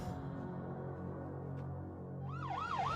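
Ambulance siren in a Hindi-dubbed South Indian action film, a wailing siren rising in the last second over a dense, steady background of film score and noise.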